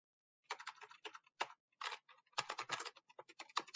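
Typing on a computer keyboard, with quick bursts of clicky keystrokes separated by short pauses, close and fairly quiet, with no voices.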